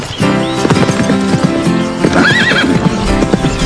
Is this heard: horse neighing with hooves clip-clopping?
yes